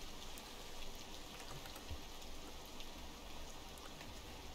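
Running water in the video game Rain World, a constant gentle rushing with scattered droplet ticks, quiet and even across the stretch, no voices.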